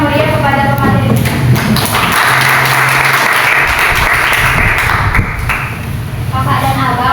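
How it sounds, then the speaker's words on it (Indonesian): Lively applause from an audience in a classroom presentation session swells into a dense wash of clapping, mixed with voices and some tonal hum, loud and close throughout. "Berikan tepuk tangan yang meriah kepada pemateri 3."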